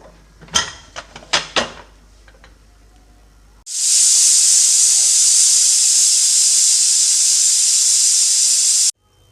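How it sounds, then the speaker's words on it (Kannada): A pressure cooker holding paneer biryani lets out a loud, steady whistle of venting steam that lasts about five seconds, then stops abruptly, after a few short metallic clatters. "ಇವಾಗ ಒಂದು ವಿಷಲ್ ಆಗಿದೆ ನಮಗೆ"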